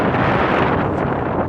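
Strong wind buffeting a microphone outdoors after a city flood, a loud constant rumbling roar that fills the whole short moment, with no talking.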